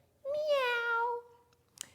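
A single drawn-out cat meow, clear and fairly close, gliding slightly downward and lasting about a second, followed by quiet and a brief faint tap.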